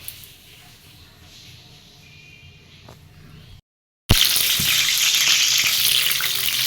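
Pointed gourd (potol) hits hot oil: a quiet low bubbling first, then after a brief gap a loud, steady, broadband sizzle of frying that carries on to the end.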